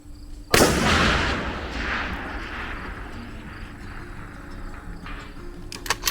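A single loud, sharp report from a Savage .308 rifle fired from a sitting position, followed by a long rolling echo that fades, then faint distant clicks.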